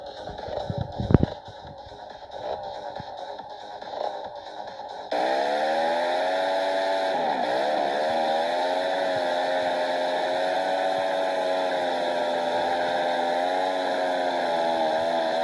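A turbo-powered mini bike engine starts up and then runs steadily at a loud, high-pitched whine, holding a constant drone with slight pitch wobble, after a few seconds of quieter background noise.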